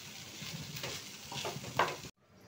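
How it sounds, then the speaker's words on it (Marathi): Lentils with spices are roasted in a pan, giving quiet scraping stirs over a soft sizzle for about two seconds before the sound cuts off. "मसाले टाकल्यानंतर मस्त चांगली भाजून घ्या डाळ."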